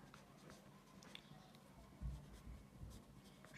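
Pen or pencil writing out a maths addition sum on paper, a faint close scratching that runs steadily for a few seconds, quiet and without speech.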